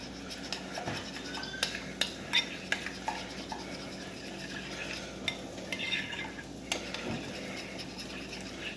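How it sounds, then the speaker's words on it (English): An equal mix of mayonnaise and sour cream for tuna patties is stirred in a bowl, a steady soft scraping with irregular clicks of the utensil against the sides, close and quiet with no talking. "equal parts mayo and sour cream. And then we're going to mix all of that together."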